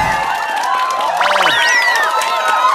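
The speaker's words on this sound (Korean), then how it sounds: "여러분의 힘찬 박수로 우리 어렵게 오신 KWL 씨 모시도록 하겠습니다" A festive neighborhood crowd at a Yeonnam-dong community feast cheers, whoops and claps loudly and continuously to welcome a celebrity guest onto the stage, with shrill shouts rising above the steady roar.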